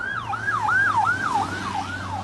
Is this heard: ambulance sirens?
yes